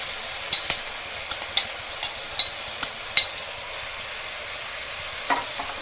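Washed spinach sits in a pan with onions for a Sindhi leafy-greens curry, faint sizzling under a handful of sharp spoon taps and scrapes spaced irregularly, with a quieter stretch before a last couple of knocks.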